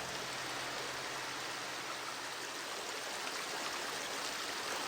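Minecraft cave ambience from the video game plays as a steady, reverberant, hissing wash of noise, much like rushing water, with no voices.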